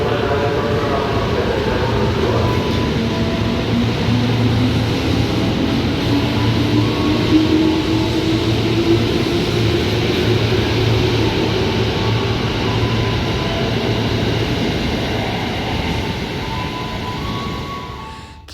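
A KRL commuter train heads toward Cisauk station, heard from inside as a continuous rumbling, rushing ride with steady wheel and motor drone and occasional whining tones, fading slightly at the end.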